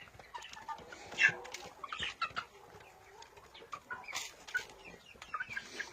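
Young chickens and a large bearded young rooster clucking softly in a greenhouse on a village farmyard in late autumn, scattered low clucks and chirps at close to moderate distance with no talking.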